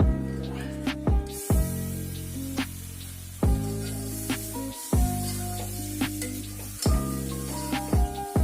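Mutton in masala sizzles loudly in a pan, with repeated bursts of frying hiss and crackle as pieces are added and stirred, settling back to a steadier sizzle between bursts.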